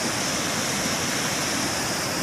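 River water rushes over a low head dam on the wide Great Miami River in Ohio, a steady, loud, unbroken roar of flowing water with no pauses or voices.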